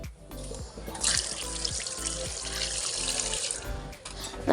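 A kitchen tap runs steadily into a sink while fish are rinsed, water splashing and trickling close up with occasional clatters from handling.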